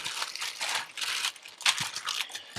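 A bubble wrap bag holding model kit parts is handled close up, giving bursts of crisp, rustling crinkles at an uneven rhythm, with no voices.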